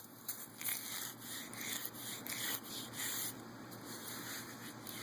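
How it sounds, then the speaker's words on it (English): Leaves are rubbed and stripped off a dry horseweed stalk outdoors, giving a continuous close, faint rasping and scraping with small crackles, no speech. "All the leaves are ready to come off."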